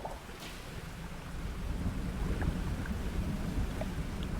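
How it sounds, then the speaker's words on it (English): Thunder rumbles in the fishing game Dredge, a low, continuous roll that swells slightly, layered with steady rain and wind noise and no voices. "I can hear thunder."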